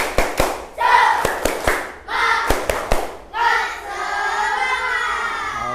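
A school class does a rhythmic spirit clap (tepuk semangat), with loud, sharp clap strokes in quick patterned groups alternating with the children's shouted group chanting, close and energetic.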